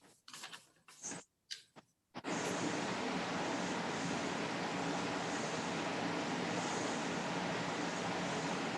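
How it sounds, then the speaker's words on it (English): Calming ambient water sound, like ocean surf, plays from a TV as a steady, even wash of noise with a soft rushing texture that fills the room after a few brief clicks. "Is that our calming water sound that we get from the TV sometime?"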